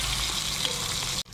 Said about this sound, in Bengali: ডিম ছেড়ে দিচ্ছি, ভেজে নেব।